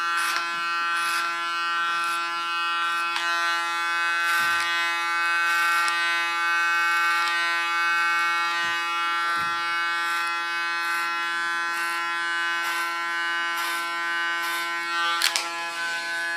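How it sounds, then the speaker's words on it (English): Electric hair clipper cutting the sides of ultra-short hair, a steady close buzzing hum with brief rasping bursts as the blades pass through hair, continuous and alone. "Start by clippering off the sides."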